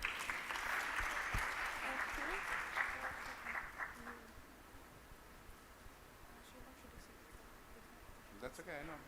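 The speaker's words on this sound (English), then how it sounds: "clap for her." Audience clapping for a student who earned a prize, a loud dense burst of applause for about four seconds that thins and fades into room noise, with voices talking underneath and a brief spoken phrase near the end.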